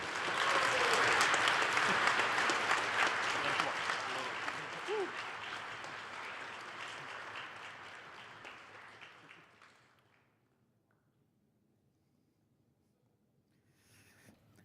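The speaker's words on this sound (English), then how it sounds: "Clap, clap, clap." Crowd at the Finnish Game Awards 2023 ceremony applauds, loud dense clapping that gradually thins and fades out to near silence over about ten seconds, with faint murmuring beneath.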